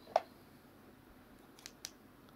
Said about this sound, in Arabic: مقص،